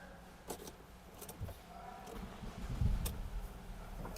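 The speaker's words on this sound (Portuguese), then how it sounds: "Vamos ligar o carro de novo." A Ford car with a PowerShift gearbox is started, with clicks and a low engine rumble building toward the end under steady background noise.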